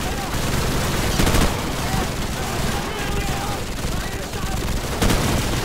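Rapid automatic gunfire rattles on in Call of Duty: Modern Warfare, dense overlapping shots with a few louder bursts standing out, close and loud, while voices talk over the din.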